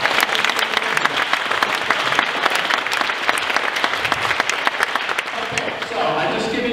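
Sustained audience applause fills the whole stretch at a psychic entertainment show, dense and steady before easing slightly near the end.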